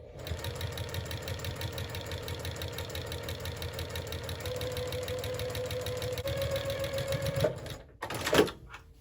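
A sewing machine quilts a line of stitching across a tote bag made from scrap fabric or jelly roll strips, running in a steady, rapid rhythmic whir for about seven seconds before stopping, followed by a brief handling noise.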